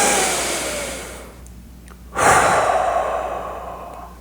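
Slow, deep human breathing, close and loud: a long airy exhale fades away, a short pause follows, then another strong full breath rushes in and slowly trails off.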